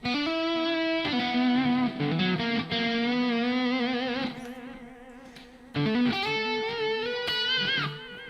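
Distorted electric guitar through a Neural DSP Nano Cortex amp modeler pedal, playing sustained chords and bends with a saturated amp tone, loud and close, briefly easing off before returning at full drive.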